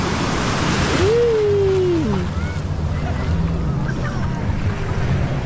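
Steady surf of big waves washes onto a beach with wind buffeting the microphone, a continuous rushing roar with a brief tonal whine in the middle.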